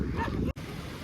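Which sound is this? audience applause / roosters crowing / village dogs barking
village dogs barking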